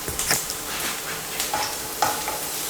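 Small shallots frying in oil with curry leaves for a Kerala Christmas chicken stew, a continuous close sizzle with a few light spatula scrapes and taps, no talking.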